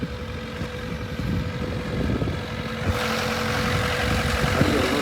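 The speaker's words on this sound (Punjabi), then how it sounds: "ਨਹੀਂ ਤਾਂ ਜਨਰੇਟਰ ਦੀ ਆਵਾਜ਼ ਬਹੁਤ ਹੋਊ" A generator engine drones steadily nearby, a loud continuous low rumble with a faint hum, growing slightly rougher toward the end; no speech.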